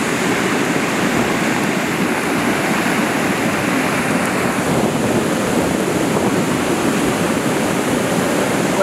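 A debris flow rushing down a mountain torrent at Le Claret: a loud, steady, broadband roar of churning water and debris, continuous and unbroken with no voices.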